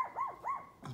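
A small dog barks three times in quick succession, sharp yipping barks with a rising and falling pitch, moderately close and alone with no talk over them.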